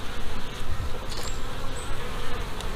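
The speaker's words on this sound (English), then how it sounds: "as we're walking through the bee yard, every hive is very active here at the moment" Honey bees swarm busily around active hives in a bee yard near a pollen feeder, a dense, continuous buzzing drone close by with no voices.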